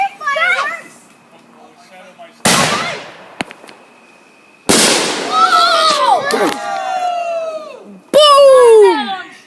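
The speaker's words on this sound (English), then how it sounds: "Is it illegal to light fireworks?" Fourth of July fireworks bursting outdoors, several loud sudden blasts and crackles separated by quieter gaps, with children shouting and screaming excitedly around them.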